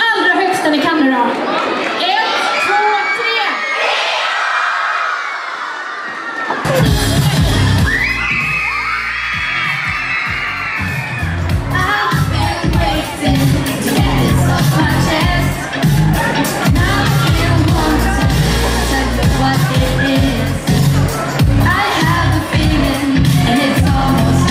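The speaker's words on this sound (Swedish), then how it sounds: "Ska ni ge er en varm applåd? Och så ropar ni till oss det allra högsta ni kan nu då." A live summer-show audience bursts into loud cheering, whooping and applause after a brief quieter stretch, a sustained roar with shouts that continues to the end, mixed with amplified voices and music.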